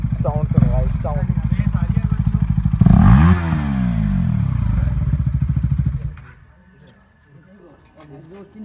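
A KTM Duke 250 motorcycle with its exhaust removed runs close by, a loud, raw engine note that sweeps up through a rev and then drops back to a lumpy idle, with people talking over it.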